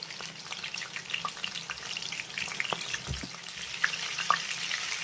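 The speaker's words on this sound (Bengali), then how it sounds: "তেলটা ভালোভাবে গরম হয়ে গেলে তেলের ভিতরে দিয়ে দেবো কেটে ধুয়ে রাখা পটলগুলো" Cut and washed pointed gourd (potol) frying in hot white oil crackles and sizzles up close, with scattered pops and spits over a steady hiss and occasional stirring, no one talking.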